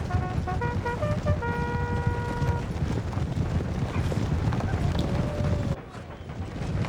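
Cavalry horses of the 18th Horse Guards galloping in the Empire Total War battle game, a steady clip-clop of hooves amid dense battlefield noise, with a horn-like tone early on and talk over it.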